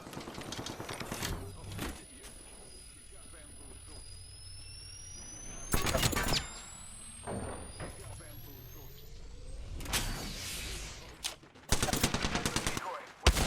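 Bursts of gunfire in the video game Apex Legends: loud rapid volleys come in separate clusters with quieter gaps of game noise between them, and a voice talks in places.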